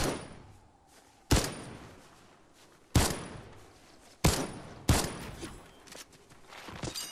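Gunfire in an Unreal Tournament ranked match: four sharp, loud blasts at uneven intervals, each followed by a decaying rumble, with softer clatter and movement between shots and no voices.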